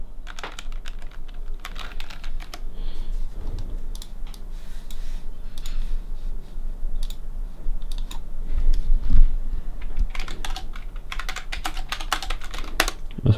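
Rapid, uneven keyboard typing with clustered bursts of clicks and short pauses, fairly close, with no talking.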